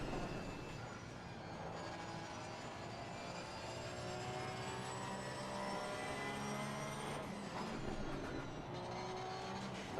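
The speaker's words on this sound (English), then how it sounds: "Listen to the engine." Racing-game car engine running with traction control active, a steady sustained drone with harmonic whine rising and falling through gear changes and revs, loud and continuous with no talking.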